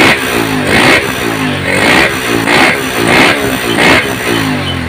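A Honda GL Pro motorcycle engine with a fault that makes it sputter and stall when hot is revved in repeated surges, loud and close, about five rises and falls of the throttle.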